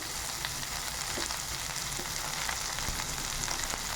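Tomatoes, cabbage, potato and beetroot sauté lightly in a pan for a paneer momo filling, giving a steady, even sizzle and hiss that runs throughout with faint scattered crackles and no voices.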